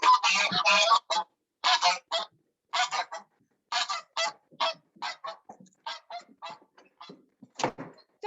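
Farm geese honking at feeding time, a loud flurry of overlapping honks at first, then repeated separate calls in an irregular rhythm, close by and with no talk over them.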